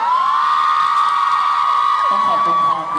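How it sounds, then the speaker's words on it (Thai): Mall event crowd cheering and whooping with applause at a Robinson jeans fashion show, loud and continuous, with high shrill shouts throughout and a brief dip near the end. "ขอเสียงปรบมือให้หน่อยค่ะ"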